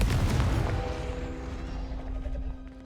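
The Confringo fire spell in the game Hogwarts Legacy sets off a loud booming blast up close, its deep rumble and crackle trailing away over a couple of seconds with a faint tonal ring underneath.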